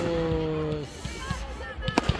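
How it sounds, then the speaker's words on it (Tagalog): Fireworks bursting after a concert, sharp scattered pops and bangs growing denser toward the end, following a voice at the start and heard over faint crowd murmur. "fireworks pagkatapos ng concert"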